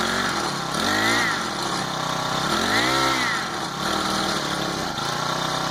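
A small Honda GX25 four-stroke engine on a motorized bike idles with a buzzy, uneven note, its pitch sagging and rising in a couple of stuttering dips, close and loud throughout.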